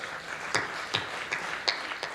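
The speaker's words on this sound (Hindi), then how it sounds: "तालियां बजाइए यहां पर" An audience at a political speech gives scattered applause: a few sparse, separate claps spaced roughly every half second, fairly faint and distant.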